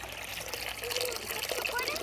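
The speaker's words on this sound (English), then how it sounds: "And then we'll just put some cold water in there." Cold water is poured into an outdoor bird bath, a steady trickling splash that runs the whole time, close and fairly loud, while a voice talks over it.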